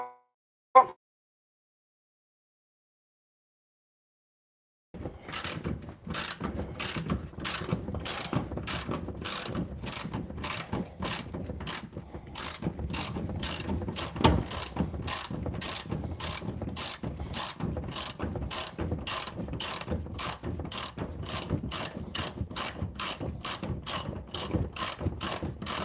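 A ratchet wrench clicks in a long, fast, steady run of sharp mechanical ticks, close and loud, after a brief knock and a few seconds of silence.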